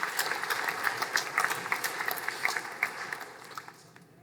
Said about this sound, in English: Please give a round of applause to those finalists who attended.